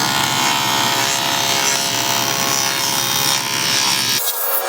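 A saw steadily cutting a rabbet into a wood piece for a step stool, a loud continuous whining buzz held for about four seconds before the cut ends and the low hum drops away, close with no talking.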